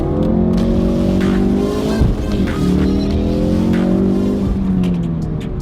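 A Ford RS makes a launch-control start: the engine revs hard and loud, its pitch climbing and dipping through a continuous roar that may carry tyre squeal, with no talking.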